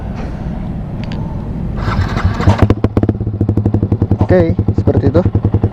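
A Yamaha R15 V3 motorcycle fitted with a full Vilan Pro1 exhaust system idles at about 1200 rpm, giving a loud, close, choppy pulsing burble with some clatter; someone speaks briefly over it.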